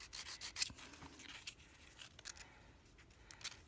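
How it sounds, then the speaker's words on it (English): Close, dry scratching of a nail file working along the underside and sides of long red glitter acrylic nails, coming in short uneven strokes with brief pauses and no talk. "I'm filing underneath and on the sides here"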